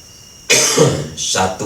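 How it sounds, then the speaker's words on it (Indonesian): One person coughs twice in quick succession, close and fairly loud, and the quiet before the first cough is broken sharply. "saya batuk dulu nih"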